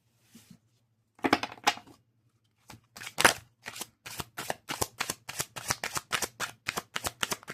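Tarot cards shuffled close up, starting with a few scattered bursts of riffling and then settling into a steady run of quick, evenly spaced riffles, with a faint low hum underneath and no talking.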